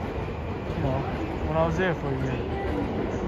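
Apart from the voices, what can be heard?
train passing over green bridge in Tokyo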